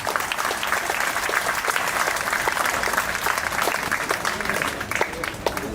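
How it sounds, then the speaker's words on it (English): Steady applause from an audience at an inaugural ceremony for a zonal sports tournament, dense even clapping continuing for several seconds at moderate level. "So please, now you can clap."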